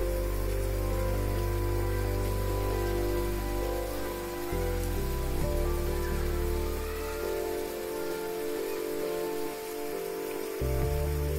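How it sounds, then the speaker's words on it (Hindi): Heavy rain pours down in Ayodhya as a steady, dense hiss that continues throughout, with a droning tonal layer running beneath it. "रामनगरी अयोध्या जिले में अचानक मौसम ने करवट ली, जिसके बाद झमाझम बारिश हुई"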